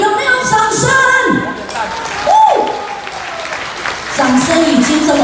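An audience claps at an installation ceremony held in a banquet hall, with a brief burst of applause while a voice speaks over it and music tones play in the background.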